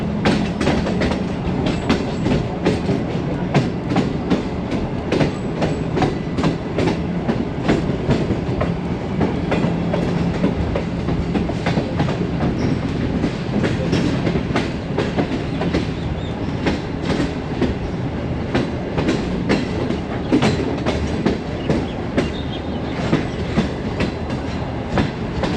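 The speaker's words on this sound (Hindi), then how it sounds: "दोस्तों 8:37 पे पेशावर सिटी रेलवे स्टेशन पे अप्रोच कर रही है।" Awam Express train arriving at Peshawar City railway station, with a loud, continuous rolling rumble and steady rhythmic clickety-clack of wheels over rail joints close by, running throughout.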